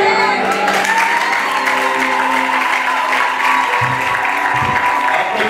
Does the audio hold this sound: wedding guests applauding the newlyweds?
yes